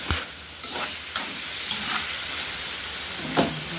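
Chicken curry seasoned with black pepper frying in a pan, a constant close sizzle punctuated by several scraping stirs of a utensil spaced through the clip.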